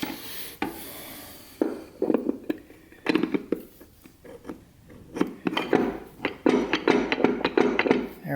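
A TH400 forward drum being worked back down into the transmission case, giving a series of close knocks, clunks and scraping metal contacts in irregular bursts with brief pauses between.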